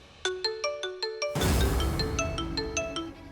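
An outgoing phone call rings through as a repeated electronic ringback tone, pulsing in an even rhythm before being swamped by a loud burst of dramatic music, then continuing faintly beneath it.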